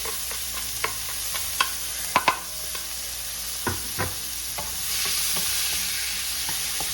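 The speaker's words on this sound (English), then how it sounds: "So we're going to start our sauteing process now for our mechado." Ingredients for a beef mechado sauté in a pan: a continuous sizzle with sharp spoon taps and stirring scrapes, the frying growing louder toward the end.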